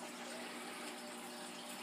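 A hang-on waterfall filter runs on a 75-gallon African cichlid aquarium, giving a steady, close hiss of falling and churning water with no break and no voices.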